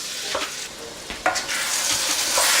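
Ground beef in an 80-20 mix browns in a pan with a loud, close sizzle, with a few scraping stirs and clicks against the pan.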